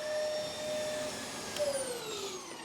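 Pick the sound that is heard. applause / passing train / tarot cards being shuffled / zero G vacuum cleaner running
zero G vacuum cleaner running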